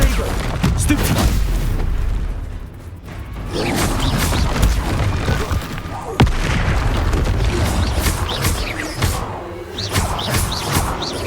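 Bombarda and Confringo spells in Hogwarts Legacy go off as a run of loud, close booms and crashing impacts, repeating every second or so amid busy combat noise.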